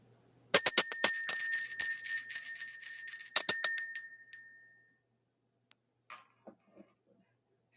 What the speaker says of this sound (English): Let's ring this bell.